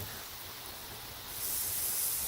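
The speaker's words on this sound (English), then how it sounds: "I got a sprinkler system since it doesn't rain anymore." Steady broadband hiss of a lawn sprinkler spraying water, growing louder and brighter partway through as the spray swings closer, with no voices.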